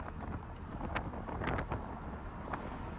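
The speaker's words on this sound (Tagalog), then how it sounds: "Minsan, lakas ng hangin." Strong wind blows across an open waterfront on the Corniche in Dammam, Saudi Arabia. It is a close, rumbling roar buffeting the microphone throughout, with brief gusty swells.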